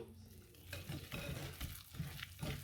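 Milk-free crêpe batter being whisked in a bowl, a soft repeated scraping and sloshing that rises in regular strokes, fairly quiet and close with no talking.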